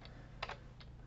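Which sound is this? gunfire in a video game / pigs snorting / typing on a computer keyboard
typing on a computer keyboard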